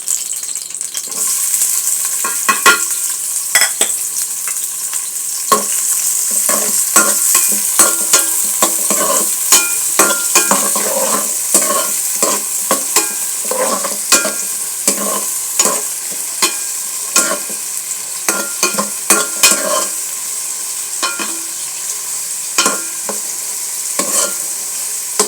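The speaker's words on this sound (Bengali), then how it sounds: "তেল গরম হলে আমি পেঁয়াজ কুচি ঢেলে দেবো" Chopped onions hit a small amount of hot oil in a pan and fry with a loud, continuous sizzle close up, while a spoon scrapes and taps the pan at an irregular rhythm throughout.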